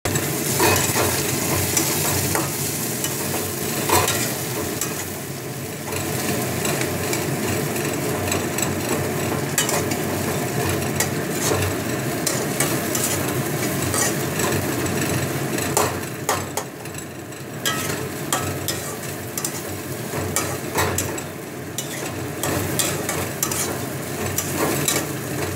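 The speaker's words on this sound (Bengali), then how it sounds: "পেঁয়াজটা একটু ভাজা ভাজা হোক। পেঁয়াজ হয়ে গেছে অনেকটা ভাজা" Sliced onions and potatoes fry in a pan over lowered gas, a loud continuous sizzle mixed with frequent scraping and clattering as they are stirred, with no talking.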